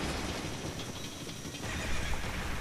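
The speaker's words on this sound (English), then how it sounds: "Horses." Horse in The Legend of Zelda: Ocarina of Time letting out a whinny over clip-clopping hooves, a brief game sound effect heard alone, moderately loud, with the hoofbeats continuing underneath.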